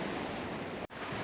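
Steady beach surf at Shrivardhan Beach on the Konkan coast, a continuous close wash of waves with wind noise, briefly cut by a sharp dropout near the end; no one talks.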